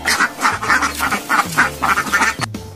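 A duck quacks over and over in a steady run of loud, nasal calls close by, with a short pause near the end and no talking.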